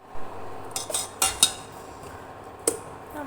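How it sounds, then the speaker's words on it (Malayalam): A metal utensil stirs pudding in a pan, giving a handful of sharp scrapes and clinks spread unevenly over a few seconds, close by but fairly soft, with no talking. "നമ്മൾ ഇളക്കിക്കൊണ്ടിരിക്കുകയാണ്."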